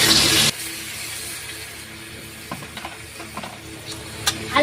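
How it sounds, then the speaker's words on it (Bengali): Potatoes fry in a pan for a chicken kosha, starting with a loud burst of hissing sizzle that drops to a quieter crackle, punctuated by a few scraping stirs. "আলুটা ভালো করে ভাজবো।"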